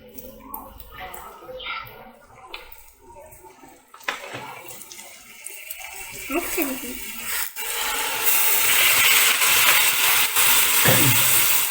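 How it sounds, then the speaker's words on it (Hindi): Water is poured into a pan of spiced bitter gourd and onions, building into a loud, sustained hiss and sizzle after clattering kitchen sounds, while someone talks. "अब इसके अंदर हम थोड़ा सा मामूली सा पानी इसके अंदर ऐड करेंगे।"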